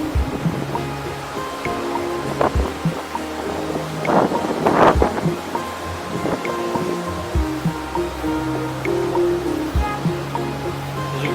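Surf washing onto the beach at Destin, Florida, a steady broadband wash with a louder swell of breaking water midway, wind noise over the microphone and no voices.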